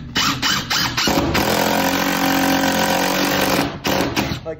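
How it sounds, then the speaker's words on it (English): Power drill or impact driver driving a screw into a basement floor joist while sistering joists, a loud steady whir running for about three seconds with brief revving bursts before and after. "So we're going to put a screw in here."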